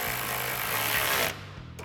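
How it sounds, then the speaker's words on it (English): A ratchet with a 10mm socket driving mounting hardware for a Jeep Wrangler JL headlight: a loud, close, steady motorized whir that cuts off abruptly, followed by a short quieter tail, with no talking. "grab our 10mm socket on our ratchet. Go ahead and run our mounting hardware back in. Tighten this one down."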